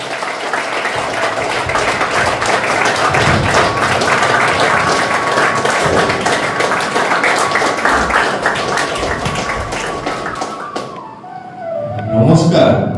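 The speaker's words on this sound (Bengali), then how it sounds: "করতালির মাধ্যমে ডেকে নিচ্ছি" A crowd claps steadily for about eleven seconds to welcome the first participant at a school recitation event. The dense, loud applause fades out, and then a voice begins speaking.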